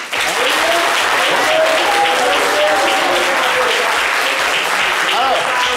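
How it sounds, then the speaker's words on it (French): A studio audience applauds steadily for a guest on a live radio show, a continuous loud wash of claps with scattered cheers and voices mixed in throughout. "Applaudissez pour lui."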